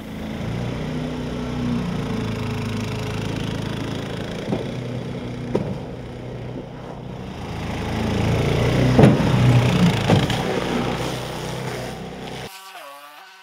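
Mud motor engine on an import kit, running steadily with a loose handle and striking a log, gives a loud continuous drone with a few knocks and a swell of intensity before it cuts off near the end.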